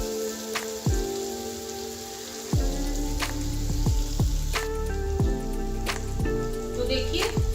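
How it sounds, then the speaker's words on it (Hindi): Masala for a no-onion, no-garlic potato-tomato curry fries in a pan, a continuous soft sizzle broken by sharp spits and crackles, close and moderately loud. "मैं इसको भून रही हूँ।"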